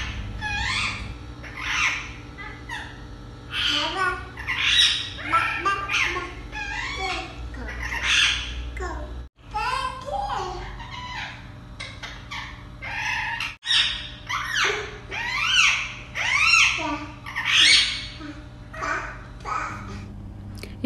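A pet talking parrot chatters, mimics words and squawks in a steady run of short, bright calls throughout, close to the microphone, with a faint background hum and no human talk.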